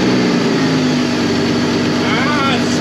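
A Jeep Cherokee 4.0 straight-six with an exhaust leak running at idle, a loud, steady, even rumble with a constant drone and no break.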